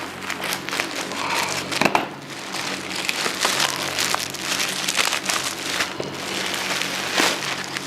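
A plastic package from an online shop, holding a plain cotton T-shirt, is opened for unboxing. Close crinkling and rustling of plastic wrap runs steadily, with a sharper crackle near two seconds and no talking.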